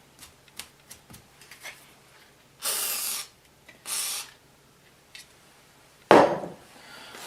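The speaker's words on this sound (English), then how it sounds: "spray some lubricant in there" Two short hissing bursts from an aerosol can spraying lubricant during ball joint, tie rod end and wheel bearing replacement on a Ford E-350 van, each about half a second, among scattered clicks and handling knocks, then a louder scraping thud.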